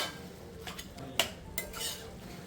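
Banana flower being mixed with fried coconut in a cooking pot, with a spoon scraping and clinking against the metal in a few short strokes; no voices.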